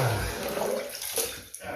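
Water sloshes and splashes in a bathtub while a ferret is bathed, a steady close wash of rippling water with small splashy bursts throughout.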